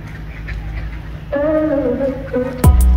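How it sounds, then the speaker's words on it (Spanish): Ducks being fed seeds at Lake Maren in central Södertälje, in front of the station, give a few loud, drawn-out nasal quacks close by, ending in a sharp, abrupt burst of calls over low background rumble. "Comenzamos este video observando unos patos, los cuales son alimentados con semillas"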